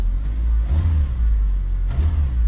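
A used car engine idles with a low rumble, then rises in two short revs as gas is given, each swelling and falling back within a second, close and loud.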